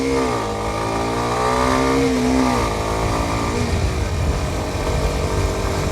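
A Kawasaki Ninja 125 motorcycle engine revs up and shifts through gears, pitch climbing then dropping at each change, loud and close, settling into a steady drone toward the end.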